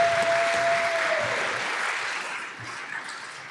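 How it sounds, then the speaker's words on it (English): Sustained applause from a large audience at the ICPC European Championship closing ceremony in Portland, a dense wash of clapping that gradually tapers off. "So a big round of applause to Boba."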